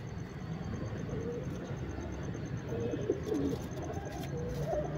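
Pigeons coo softly among a flock kept in a loft, low throaty calls repeating faintly over steady background rumble, with no clear talk.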